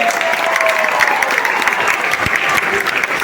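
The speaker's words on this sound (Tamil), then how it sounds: "ஒரு அரங்கம் நிறைந்த கைத்தட்டலை தந்தரலாம்" A large audience claps loudly and steadily at a Tamil Thirukkural festival in a packed hall in Dubai. The dense applause carries on evenly throughout with no break.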